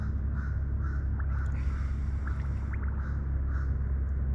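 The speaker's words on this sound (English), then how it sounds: "It's like a crow over there or something." Several short caws from a distant crow repeat at a steady pace over a constant low rumble of background noise.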